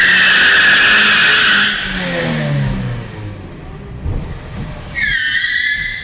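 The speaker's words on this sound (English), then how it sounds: "let's see what she got for a shop burnout" A cheap car does a shop burnout and spins both tires, making a loud, close, high tire squeal. The squeal fades as the engine revs drop, then the screech returns sharply near the end.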